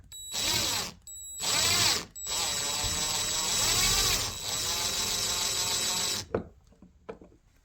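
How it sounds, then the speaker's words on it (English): A power drill drives screws into a thermostat's back panel in three bursts, the first two short and the last long and steady, with a brief pause between each, then trails off into small clatters. "I will now drill the screws to keep the back panel in place."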